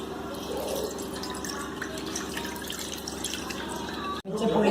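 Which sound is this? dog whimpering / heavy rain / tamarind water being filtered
tamarind water being filtered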